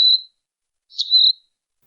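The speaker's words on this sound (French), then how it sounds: "Un rouge-gorge se posa sur une des racines et me scruta longuement," European robin chirping, two short, thin, high chirps set apart by a pause, clear and isolated against silence.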